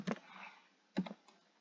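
Keystrokes on a computer keyboard as plot title commands are typed, a short burst of clicks followed after a pause by a second quick burst, close and fairly quiet with no speech.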